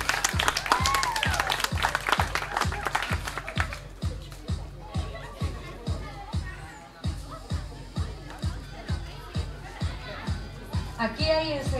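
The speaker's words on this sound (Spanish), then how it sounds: "¡Aplauso para Jetsali!" An audience at a corn festival applauds a crowned girl, a crowded clatter of clapping in the first few seconds over a steady thumping music beat that keeps going as voices talk.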